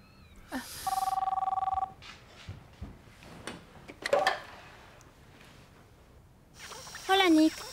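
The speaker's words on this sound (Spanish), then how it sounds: "Suena el teléfono." A telephone rings in two short electronic bursts, a few seconds apart, with quiet movement and shuffling in between.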